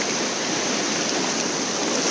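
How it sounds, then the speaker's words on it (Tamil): Fast water rushing steadily through an irrigation canal, a continuous loud broadband roar with no pauses and no voices. "தண்ணி ஃபுல்லாக போகுது"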